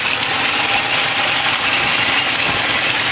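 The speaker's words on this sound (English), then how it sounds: "Put her in neutral and just idle." An 18-foot pontoon boat's outboard engine idles in neutral, a steady, close, droning rumble that holds constant for the full few seconds with no talk over it.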